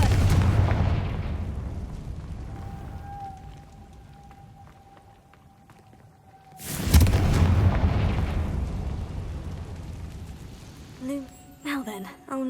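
A Confringo fire spell in the Hogwarts Legacy video game goes off as a sudden loud blast partway through, after a stretch of low game ambience and a faint steady tone. The explosion rumbles away for a few seconds, and scattered clicks follow.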